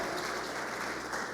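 A church congregation at a men's conference claps together, a brief dense burst of steady applause with no voices.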